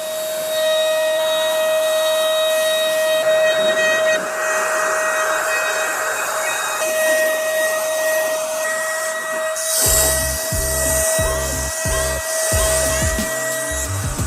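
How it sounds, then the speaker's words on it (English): A paint sprayer runs during a studio build, a loud continuous airy hiss with a steady high whine, close by, with the hiss shifting and pulsing toward the end, no talking. "I like a paint sprayer."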